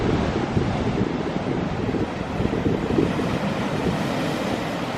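Ocean surf breaking on the Cornish coast near Talland Bay and Polperro, a loud continuous roar of waves with heavy wind buffeting the microphone throughout.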